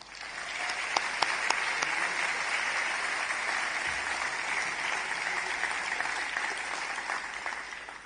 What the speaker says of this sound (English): would you please join me now in a round of applause and appreciation of the